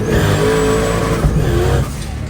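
A race car accelerates on a power hit with a loud, close engine roar that builds steadily and then drops back after about two seconds.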